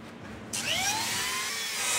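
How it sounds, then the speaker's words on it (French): Chainsaw starting up and cutting into a half-ton block of ice for sculpture, a sudden loud high whine that holds steady close by. "Comme Michel Autier, qui massacre à la tronçonneuse un bloc de glace d'une demi-tonne pour en faire une œuvre d'art."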